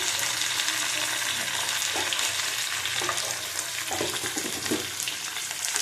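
Shrimp and three kinds of vegetables fry in a pan with a constant dense sizzle, punctuated by a few stirring scrapes and knocks, with no talking.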